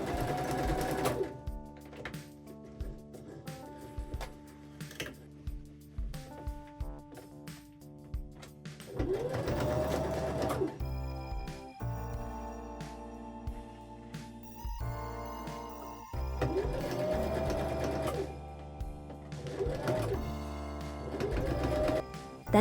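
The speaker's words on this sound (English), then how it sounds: "I also sewed most of the top of the skirt, leaving a gap in the back to turn it inside out." Domestic sewing machine stitching a pencil skirt, running in short repeated bursts and then longer continuous runs, close and clear with brief pauses and no talk.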